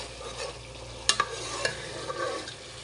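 A spice mix stirring and frying in a pan, a steady soft sizzle under a few sharp scrapes and clinks of a utensil near the middle, close by and no talk.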